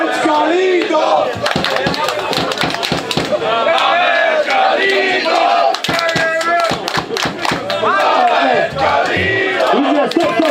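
A large live crowd at the Trójbój Kaszubski 2019 event claps and cheers loudly and continuously, with shouts and whoops rising over dense, steady clapping throughout.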